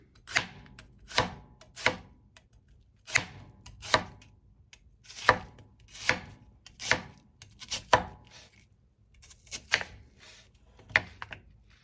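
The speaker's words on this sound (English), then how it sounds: "we're just going to thinly slice this one" A knife thinly slices an ingredient for carnitas on a cutting board, making about fifteen sharp, close chopping strokes at an uneven but steady pace, with no talking.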